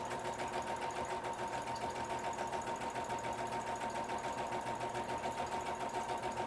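A sewing machine runs steadily, stitching the outer fabric of a Christmas stocking with a half-inch seam allowance; the even, rapid mechanical whir stays fairly quiet and continuous throughout, with no talking.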